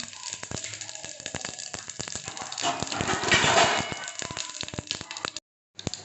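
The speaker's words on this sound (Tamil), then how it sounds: "கடுகு வெடிச்சிச்சு." Mustard and cumin seeds pop and crackle in two spoons of hot oil, a dense run of sharp close snaps that swells into a loud sizzling burst midway before thinning out, with no talking.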